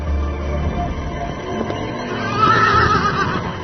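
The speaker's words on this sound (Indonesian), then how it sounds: "Kuda Aipat berlari paling kencang dan meninggalkan lawan-lawannya jauh di belakang." A racehorse neighs loudly amid faint hoofbeats during a race, a single whinny rising clearly above a rough, busy background.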